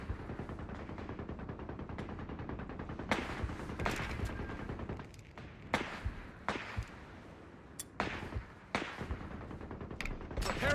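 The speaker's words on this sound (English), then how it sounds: "Heavy machine gun has been requisitioned." Heavy machine gun fire in the Company of Heroes 3 battle game rattles in sustained bursts over rumbling battlefield noise, with several louder sharp cracks and booms spread across the scene.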